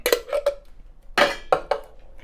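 Soaked dry chickpeas tossed into a cooking pot make a few brief clattering rattles against the metal, close and sharp, in scattered bursts.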